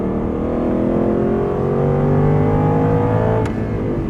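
An Aston Martin V8 Vantage S engine pulls hard on a winding road, a loud close rising engine note climbing steadily through the revs with a brief click near the end, no talking.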